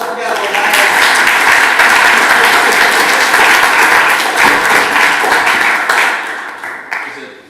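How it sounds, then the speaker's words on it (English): A crowd at the PyCon Austria 2026 conference applauds a participant, with a strong, steady wall of clapping throughout that tapers off in the final second. "Big round of applause for Gabor, guys."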